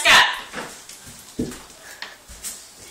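Dogs in a home kitchen give a loud close yelp, then a series of softer whimpers and short barks, with children talking over them.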